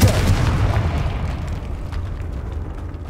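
A deep explosion bursts from the Confringo fire spell in the game Hogwarts Legacy, a loud rumbling boom that decays into a fading roar over a few seconds.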